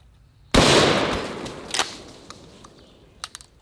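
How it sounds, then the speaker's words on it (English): A Winchester 1897 slam-fire trench shotgun fires one sharp, loud blast that decays into an echoing tail, with a few faint clicks and rattles of the action afterward. "This is the Winchester 1897 slam fire shotgun"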